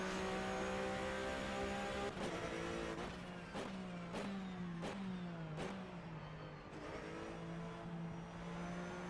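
Flat 6 mod race car in rFactor 2 roars through repeated gear shifts, its engine note climbing and dropping in sharp steps, loud and close throughout.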